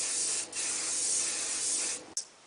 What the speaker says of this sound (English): I'm going to spray it in